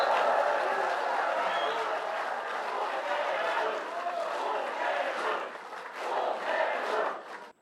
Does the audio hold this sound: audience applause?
yes